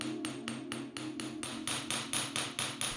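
A hammer strikes a melted metal ingot during forging, a close series of about a dozen sharp, ringing blows in a steady rhythm, growing slightly louder toward the end.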